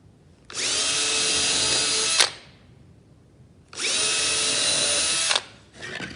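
A power drill bores pilot holes into wood for a bench. Two separate high whirring bursts of about two seconds each are close and loud, with a short quiet gap between them.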